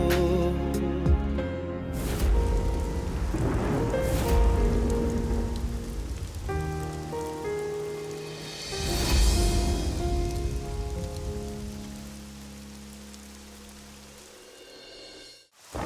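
Steady rain patters and hisses throughout a television drama scene, running alongside a sustained musical score with held tones, fairly loud and unbroken until it cuts off near the end.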